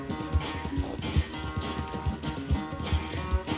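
A horse gallops in a video game, hooves beating in a quick steady rhythm close up over a rumbling background, no talk over it.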